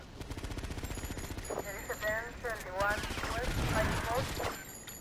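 Rapid automatic gunfire from the video game GTA Vice City rattles steadily throughout, with someone speaking over it and ringing electronic game tones in the middle.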